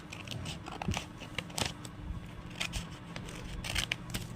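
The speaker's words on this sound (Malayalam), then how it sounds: "കട്ട് ചെയ്ത് കൊടുക്കുക." Scissors snip through folded material in a run of quiet, close, irregular cuts and crinkles with no talk.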